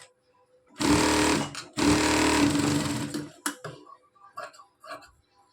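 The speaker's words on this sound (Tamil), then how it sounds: "இப்போ இதை சுற்றிலும் இருக்கிறதுக்கு நம்ம தையல் போட்டு எடுத்துக்கலாம்." A sewing machine stitches a blouse sleeve in two loud, steady bursts, then gives a few short clicks and taps as the fabric is handled.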